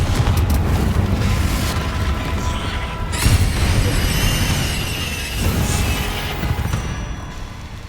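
Booming blasts from the Confringo explosion spell in the video game Hogwarts Legacy, with a dense rumbling roar that swells sharply around the three-second mark and again later, set against constant game background noise.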